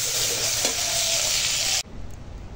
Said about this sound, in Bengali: এর জন্য এই চিংড়ি মাছটা ভেজে নিচ্ছি